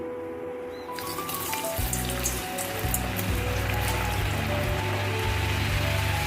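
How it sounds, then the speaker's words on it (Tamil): Potato pieces drop into hot oil in a kadai for crispy fries. After a quiet start, a sudden loud, steady hiss rises into dense, rain-like sizzling that carries on, close and strong. "எண்ணெய் இப்போ நல்லா ஹீட் ஆகிடுச்சு. நம்ம ஒவ்வொன்றா போட்டுடலாம்."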